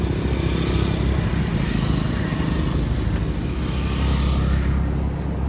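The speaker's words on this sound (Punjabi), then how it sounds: "ਆ ਸਾਰੇ ਮੋਟਰਸਾਈਕਲ ਉੱਪਰ ਹੀ ਆ ਰਹੇ ਆ" Several motorcycles ride uphill toward a parking area at Gurudwara Govindghat Sahib, their engines a loud, continuous, close drone with no talk over it.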